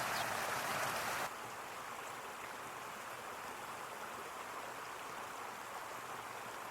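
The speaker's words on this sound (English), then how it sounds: "the pond is overflowing" Floodwater spilling from an overflowing pond into flooded woods near a Missouri river, a steady broadband rush of flowing water heard alone and fairly faint, slightly louder for the first second before settling to an even wash.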